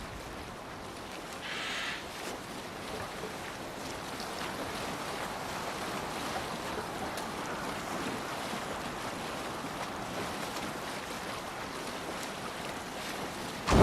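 Open-sea ambience from a Viking longship in Assassin's Creed Valhalla, with steady wind and water wash under the oars, a low continuous rush that holds even throughout with a faint rise at the end.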